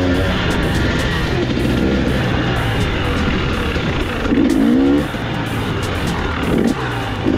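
Off-road motorcycle engine on a dusty night trail ride, droning steadily nearby with a couple of short throttle blips rising briefly above the running motor.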